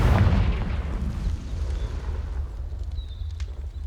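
A deep Confringo blasting spell explosion in Hogwarts Legacy, a heavy low boom at the start that rumbles and fades into a lingering roar, with faint magical whistles afterward.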